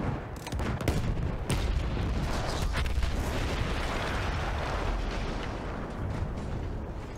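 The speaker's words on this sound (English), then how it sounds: "That explosion was one of the sweetest sights of the war for me." A heavy explosion in the video game Battlefield 1 opens with sharp booms, then a long loud rumbling wash of blast and debris that holds steady to the end.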